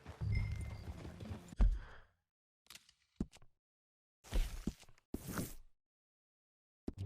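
Horse hooves in the video game Red Dead Redemption 2 clop loudly at first, then come in short separate bursts of hoofbeats with quiet gaps between them.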